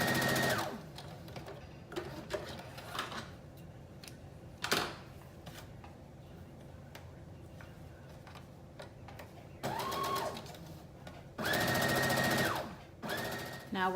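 A sewing machine stitching a wrap dress bodice seam from shoulder to center, several short motorized runs of rapid stitching separated by pauses with small clicks and handling noises.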